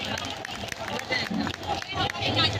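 An audience at a Babasaheb Ambedkar birth anniversary celebration in Raipur claps in tribute, a busy patter of hands mixed with crowd noise and voices.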